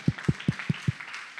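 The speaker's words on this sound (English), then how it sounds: "I'll clap myself for that one right there." A pastor claps his hands five times in a quick, even rhythm, close and crisp, with no talking in between.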